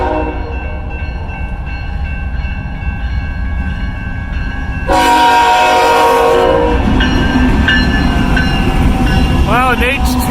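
A GE Evolution (GEVO) freight locomotive passes loud and close: a steady engine rumble, then a blaring multi-tone horn that cuts in midway and sounds again near the end, with wheel and rail noise underneath.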